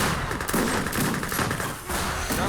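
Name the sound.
grenade throws against artillery in Age of Empires 3 video game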